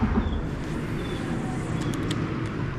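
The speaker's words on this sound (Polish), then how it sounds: "Nade mną jeżdżą auta." Cars drive across a road bridge overhead, heard from beneath as a steady low rumble of traffic, fairly loud and continuous with no talk.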